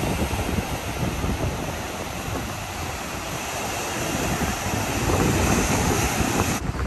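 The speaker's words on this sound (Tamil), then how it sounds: "நீங்கள் கடல் சவுண்டை ராவாக என்ஜாய் பண்ணுங்கள்" Sea waves roll onto the beach at Varkala in a constant, loud surf roar mixed with heavy wind buffeting the microphone, with no talking.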